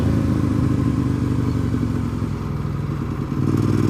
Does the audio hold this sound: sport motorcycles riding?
yes